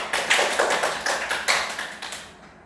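Classroom applause comes as a quick series of about a dozen close claps, fairly loud and evenly spaced, trailing off at the end.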